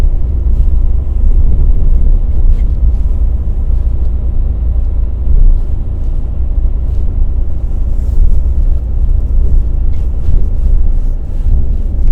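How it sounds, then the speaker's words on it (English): A class 1 HGV lorry on an Amazon trunk run between Tilbury and Aylesford, driven at low revs through a residential area, gives a steady, loud, close engine rumble with road and wind noise throughout, no talking. "try to keep the engine revs down so we don't disturb anyone"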